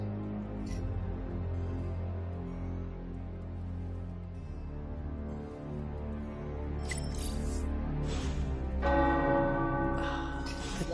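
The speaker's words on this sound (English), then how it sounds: "The tower bells are ringing." Tower bells ring in the video game Marvel's Midnight Suns with deep, sustained tolls layered over one another, a resonant steady peal with a brighter strike near the end.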